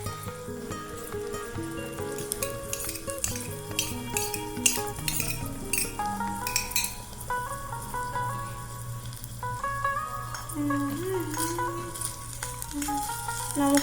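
Green chillies being added to Maggi noodles cooking in a miniature pot, heard as small metal clinks and utensil taps over a gentle sizzle, with a brief bit of voice.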